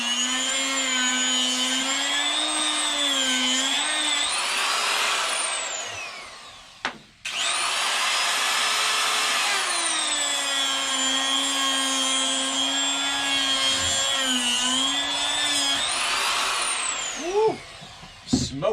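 A rotary tool fitted with a 3/4 inch Saburrtooth cross cutter carves wood, giving a loud, steady high-pitched whine with shifting pitch across two long passes and a brief pause near the middle.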